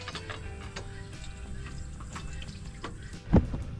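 Water flowing out from a fish pond on a farm, a soft steady trickle with faint clicks and one brief louder splash near the end.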